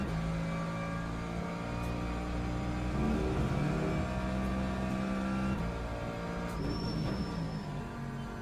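GT3 race car at Spa in Le Mans Ultimate, engine droning steadily, pitch stepping through gear changes on a downshift, loud and continuous with no talk.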